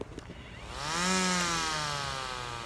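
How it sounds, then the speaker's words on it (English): A CORE gasless rechargeable battery string trimmer spins up from rest into a steady, rising electric whine with a smooth motor hum, close and loud, holding its pitch once at speed. "the whole point of this, just to show you the sound."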